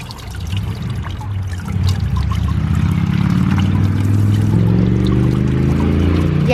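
A homemade solar-powered fountain sprays and splashes water into a basin outdoors, a steady close trickling and bubbling that grows slightly fuller partway through.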